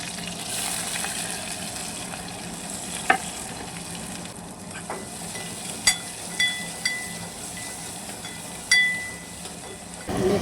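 Chopped onion frying in hot oil with curry leaves in a pan, a steady bubbling sizzle with occasional stirring clinks and scrapes, close and continuous with no talking.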